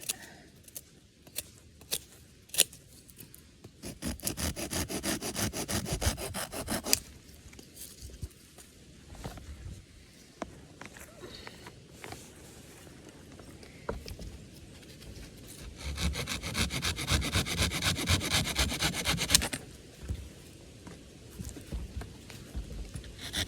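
Moss is trimmed off sticks for a campfire near a marsh on the English coast, heard as close, rhythmic rasping and scraping strokes in two sustained bursts, with scattered sharp snaps and pauses between, no talking.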